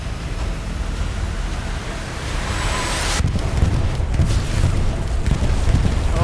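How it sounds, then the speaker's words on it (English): Bombing run explosions in the video game Hell Let Loose, a broad rumbling roar that swells after about three seconds into dense, continuous low booms and wind-like noise, distant and sustained. "That's the bombing run"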